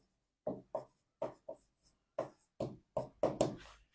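Marker or chalk scratching across a board during a lecture, in short separate strokes with quiet pauses between them.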